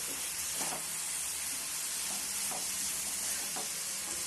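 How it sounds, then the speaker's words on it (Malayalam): A mixture stirred in a hot pan until dry, a constant sizzle broken by rhythmic scraping strokes about once a second, no talking. "ഒന്ന് ഡ്രൈ ആവുന്ന വരെ ഇളക്കി കൊടുത്തുകൊണ്ടേയിരിക്കണം."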